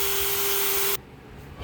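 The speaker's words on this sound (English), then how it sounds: "Homemade sanding disc" A Dremel rotary tool spins a homemade emery-cloth sanding disc against olive wood, giving a loud steady high whine with a broad gritty hiss that cuts off abruptly about a second in, leaving a quieter room.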